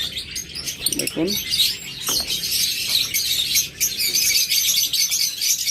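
A pair of pet birds, one opaline and one green, chirp and tweet in short bright bursts close by, with a voice speaking briefly over them.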